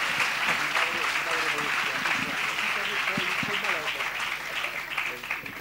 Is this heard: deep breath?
no